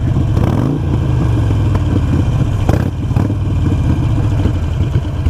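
A Harley-Davidson Iron 883 motorcycle engine runs loud and close with an uneven throttle blip that never builds into a full rev, then settles back to a rough, steady idle rumble.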